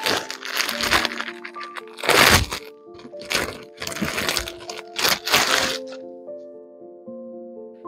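A packed chikan-embroidered kurti being unfolded, with crisp crinkling and crackling bursts of packaging in several close handling bouts, over soft background music.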